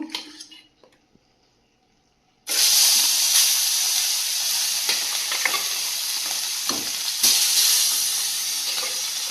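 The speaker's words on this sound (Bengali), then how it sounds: "ফ্রাই প্যানটা চাপিয়ে দিয়েছি আর তেলটাও খুব গরম হয়ে গেছে মাছগুলো ভেজে নেব" Fish dropped into very hot oil in a frying pan, a near, loud sizzling hiss bursting in after a quiet start and holding steady with occasional crackles and spatters.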